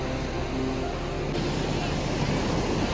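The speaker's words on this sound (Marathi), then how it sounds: "मस्तपैकी लाटाव येतात जोरात" Waves surge and break steadily on a Goa beach, a broad continuous roar of surf mixed with wind buffeting the microphone, with no clear pauses between the rolling crashes.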